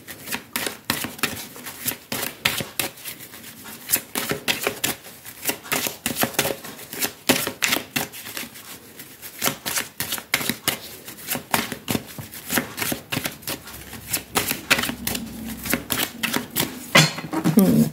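A deck of cards is cut and shuffled close up, producing a long run of quick, crisp riffling clicks and flutters in rapid bursts, ending with a brief soft rustle.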